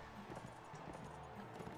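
Horse hooves clip-clopping at a gallop in the medieval combat game Mount and Blade: Warband, a faint, steady rhythmic pounding under a low background din.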